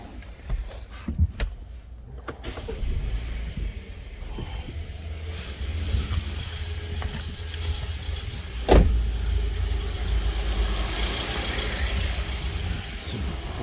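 A 2016 Kia Optima engine starting and then idling steadily, with a low continuous rumble close by, a brief power-window whir, and a sharp mechanical transient partway through.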